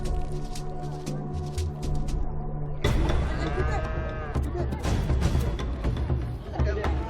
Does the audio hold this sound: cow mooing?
yes